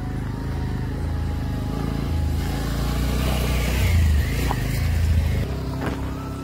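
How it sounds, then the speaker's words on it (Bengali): A motorcycle comes up from behind on a hilly road leading to a temple, its engine growing louder as it approaches and then fading away. "বাইকটা আসছে পিছন দেখো"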